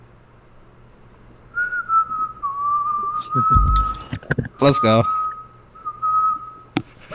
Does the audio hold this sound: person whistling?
yes